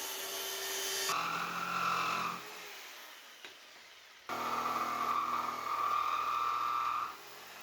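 Wooden shelf boards for a display cabinet are cut with a power saw in two loud, whining bursts separated by a quiet pause with faint handling noises.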